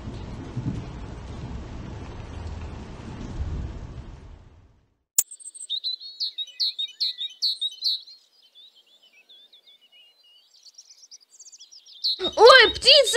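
Cartoon bird chirps in an animated fairy tale about a little slug: a rapid series of thin, high tweets following a low rumbling stretch and a sharp click, then a louder burst of calls near the end.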